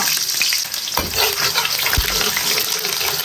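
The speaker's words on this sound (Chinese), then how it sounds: "葱姜蒜爆香" Scallion, ginger and garlic stir-fry in plenty of hot oil in a wok for a lamb trotter hotpot, giving a close, steady sizzle broken by scraping stirs.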